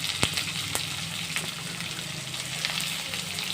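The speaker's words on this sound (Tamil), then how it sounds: "சரி வெங்காயம் நல்லா வதக்க வதக்கட்டும் பெரிய வெங்காயம் நல்லா வதங்கட்டும்" A large onion sautés in a pan for a bottle gourd curry, giving a steady, even sizzle and frying hiss throughout, with a couple of faint stirring clinks and no talking.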